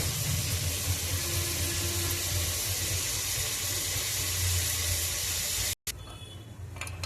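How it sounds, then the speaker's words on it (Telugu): Water pours into a pot of rice for prawn biryani in a continuous rushing splash that cuts off abruptly, followed by faint settling and bubbling. "రైస్ వేసుకుని వాటర్ వేసేసుకుందామండి."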